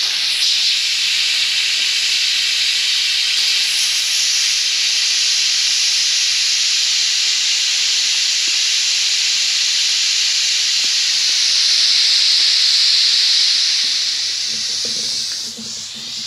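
Steam hisses loudly and steadily from an Afghan pressure cooker being vented over a campfire, a continuous close rush that swells near the end before easing off.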